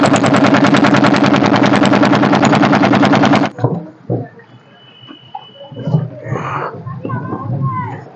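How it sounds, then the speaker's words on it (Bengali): A boat engine chugs loudly and rapidly at close range for about three and a half seconds, then cuts out, leaving quieter knocks and people talking nearby. "আমাদের ওই নৌকার আওয়াজটা প্রচুর হচ্ছে"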